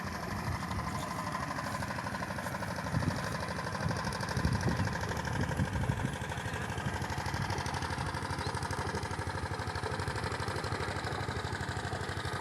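A small boat's engine chugs steadily on a river during the monsoon season, a continuous mid-pitched drone with a fast, even knocking rhythm, close and fairly loud throughout with no voices.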